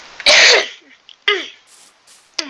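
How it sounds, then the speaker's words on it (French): A person coughs sharply and close to the microphone, giving a heavy first cough followed by two shorter coughs with pauses between them, and no speech. "Alors, pardon si je tousse."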